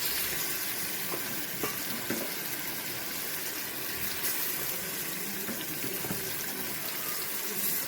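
Chicken pieces frying in a hot iron pan, a steady loud sizzle and crackle of oil with occasional small pops, continuous and close, with no talk.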